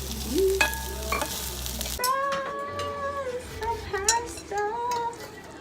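Ham sizzles and crackles in a hot pan while being stirred, with a cat meowing repeatedly nearby and a faint voice in the background.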